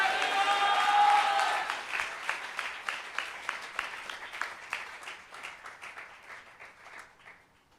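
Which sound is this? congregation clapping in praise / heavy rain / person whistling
congregation clapping in praise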